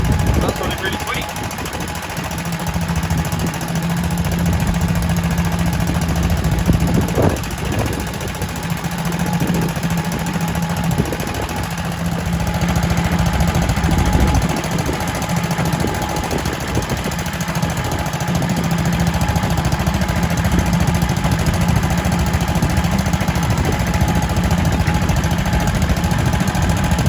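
An old Kohler K91 small engine runs steadily nearby with an even, knocking chug, and someone talks over it at times.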